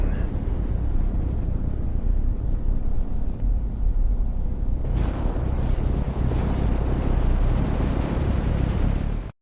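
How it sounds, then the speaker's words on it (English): Millennium Falcon thrusters waking up and lifting off, a heavy continuous roaring rumble that swells into a fuller, hissing blast midway and holds loud and close until it cuts off abruptly. "Listen to those massive thrusters wake up from a 30-year sleep. Pushing the throttle forward, we have liftoff."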